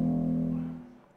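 Sustained synthesized chord from Sonic Pi code, a single stacked-note tone holding steady for most of a second before fading out, clean and alone.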